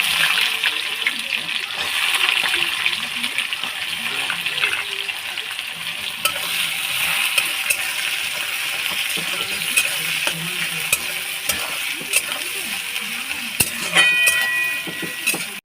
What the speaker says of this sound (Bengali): এবার আমি গোটা গরম মশলা ফোড়ন দিয়ে দেবো এরপরে পেঁয়াজ কুচিগুলো দিয়ে দেবো